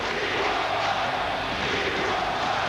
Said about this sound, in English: Jordan sat on the bench, ignoring the chants from the crowd